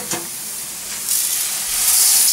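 Garlic sizzles and hisses in very hot oil for special fried rice, a steady bright frying crackle that swells louder toward the end, with no talk over it.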